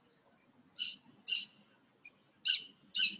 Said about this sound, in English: There's the hawk.